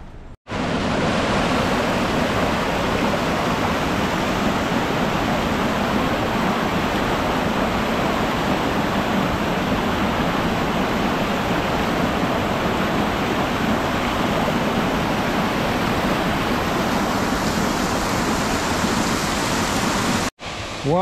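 A waterfall in Dominica gives off a dense, continuous roar of rushing water, loud and unvarying from start to finish with no talking over it.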